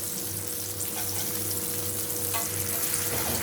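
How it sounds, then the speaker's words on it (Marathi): Prawns fry on a tawa over medium heat, a constant loud crackling sizzle with faint bubbling, steady throughout and without voices. "एक साइड आपली फ्राय झाली आहे, दुसरी साइड पण आपण फ्राय करून घेऊया"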